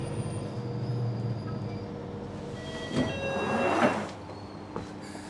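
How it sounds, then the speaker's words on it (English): A London Underground Northern line tube train crossing Dollis Brook Viaduct, heard from inside as a steady rolling rumble with rattling carriages and a louder clattering surge near the end, no talking. "I'm trying to look out for the bit where you go over the Dollisbrook Viaduct, which is the highest point the tube goes"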